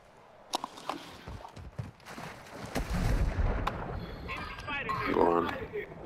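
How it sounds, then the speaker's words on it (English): Several sharp gunshots crack in a Call of Duty game, scattered and fairly close, followed by rumbling blasts and movement noise with a voice talking over it. "There's gunfire to our right."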